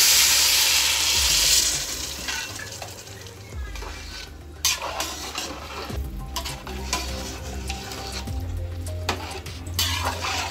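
Prawn rice sizzles and crackles loudly in a pan as water is poured in, the hiss rising then settling into steady bubbling with occasional stirring scrapes.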